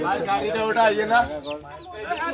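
Hens and chicks in a home courtyard cluck in short, close bursts, mixed with nearby voices.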